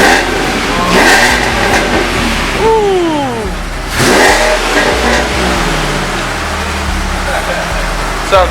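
A 2006 Ford Mustang V6 fitted with BBK headers revs loudly and close by in a garage, rising and falling through several throttle blips while people talk over it.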